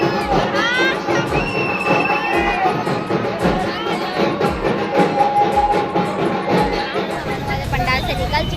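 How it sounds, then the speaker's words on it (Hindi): Big crowd at a Durga puja pandal fair at Mana camp, dense babble with children shouting and cheering, many voices overlapping near and far with steady loudness. "देख ही सकते संगवारी हो कितना ज़्यादा भीड़ रही से यहाँ"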